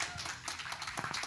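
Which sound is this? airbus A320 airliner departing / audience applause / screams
audience applause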